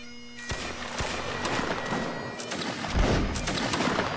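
Napoleonic Wars musket line firing a ripple volley, sharp shots cracking one after another in a rapid staggered sequence, loud and close, with one heavier burst near the end and a sustained rumble between reports.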